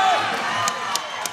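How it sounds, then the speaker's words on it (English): A crowd at a Journey Fight Series bout cheers and whoops in a short, loud burst that fades a little, with a few sharp claps near the end. "Crowd rallies behind them."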